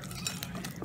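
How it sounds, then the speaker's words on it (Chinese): Flour and water are beaten together in a bowl for Korean zucchini pancake batter, a brief, soft run of utensil clinks and wet stirring scrapes heard close up. "下边我们把面粉和匀"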